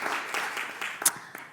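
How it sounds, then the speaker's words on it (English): Brief, fairly quiet applause from a lecture audience, a light patter of hands that gradually fades out. "a round of applause."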